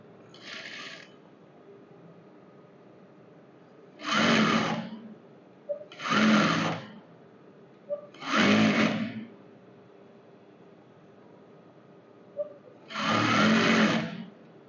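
Sewing machine stitching a simple salwar in short, loud bursts of rapid mechanical clatter, five runs of about a second each with quiet gaps and small clicks between them.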